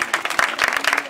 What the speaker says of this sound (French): Applaudissez pour le Tout-Puissant.